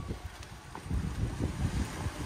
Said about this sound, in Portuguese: tá frio, tá ventando pra caramba.